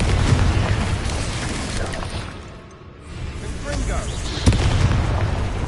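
Confringo fire spells burst with booming impacts during combat in the video game Hogwarts Legacy, a dense, loud roar that dips briefly midway before another sharp blast, with game voices mixed in.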